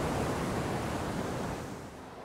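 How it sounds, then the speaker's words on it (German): Sea surf rushing onto the shore at a coastal campsite near Sango Sands in the Scottish Highlands, a steady broadband roar that swells and slowly eases, with no voices. "Wir schlafen auf unserem spektakulär gelegenen Stellplatz mit dem Rauschen des Meeres ein."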